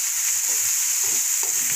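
Cubed capsicum and other vegetables frying in a pan, giving a steady hiss with soft crackles throughout, with no voices.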